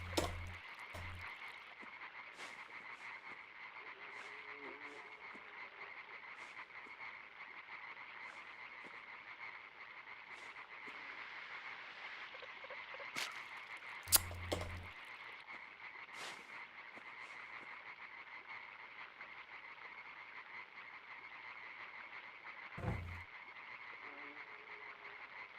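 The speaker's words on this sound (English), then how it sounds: "Frog sounds. I think it's just the ambient noises in this game." Frogs croak as ambient background in the video game Limbo, a steady faint chorus with a few louder low thumps scattered through the quiet scene.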